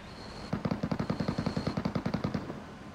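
Rapid automatic gunfire in a PUBG-style battle royale video game: a sustained burst of about twenty evenly spaced, loud, close shots lasting around two seconds after a brief quiet start, with no voices over it.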